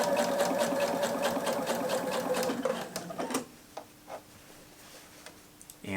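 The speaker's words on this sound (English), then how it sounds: "Back over to the sewing machine, seal this up." A sewing machine runs steadily and fast while stitching through all thicknesses at the edge of a sleeve, a close rapid mechanical whirr with ticking needle strokes, then stops and leaves a few faint handling clicks.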